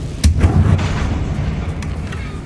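A sharp booming blast from the Confringo fire spell in the video game Hogwarts Legacy, one loud explosive hit that decays into a rumbling tail.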